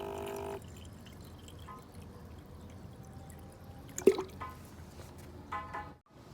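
Water is refilled into a bed bug steamer, quiet trickling and a few drips and splashes, with one sharp clunk midway, faint and close in a calm room.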